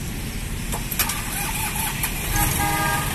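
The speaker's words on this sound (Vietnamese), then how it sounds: "Rồi lên nổ máy thử coi." A Mitsubishi MT221 tractor engine runs close by with a steady, low mechanical rumble and a few brief clicks and knocks on top, holding an even loudness throughout.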